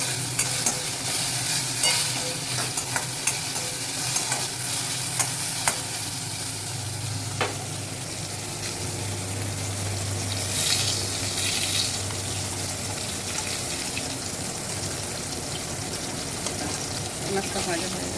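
Fish and okra (ladies' finger) fry side by side in pans, giving a continuous close sizzle with scattered crackles and occasional spoon taps over a low background hum.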